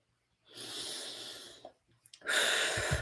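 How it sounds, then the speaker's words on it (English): Two long, close inhalations through the nose, separated by a short pause with faint clicks, while a gua sha facial massage is underway. "Breathing in"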